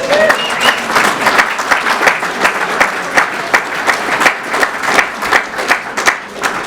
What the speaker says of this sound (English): I saw some slow clapping from the Belfast ones.